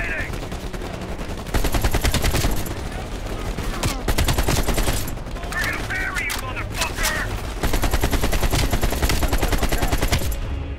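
Gunfire in the video game Call of Duty: Black Ops Cold War: loud, continuous automatic bursts and overlapping shots, close and dense throughout, with brief lulls and other game sounds mixed in.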